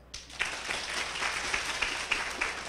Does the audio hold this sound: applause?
yes